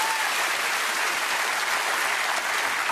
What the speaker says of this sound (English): I will applaud that.